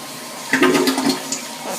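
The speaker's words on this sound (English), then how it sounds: "I'm going to flush the toilet." A household toilet flushing nearby, a short burst of rushing, gurgling water that swells quickly and then tails off into a trickle.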